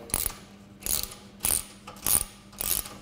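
Ratchet wrench with a 10mm socket tightening a nylock nut on an aluminium work platform foot, five distinct bursts of quick clicking at a steady rhythm, close and fairly loud, no talk.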